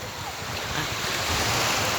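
Sea waves wash in a continuous broad roar at Toey Ngam beach, with wind buffeting the microphone and the surge swelling slightly louder toward the end.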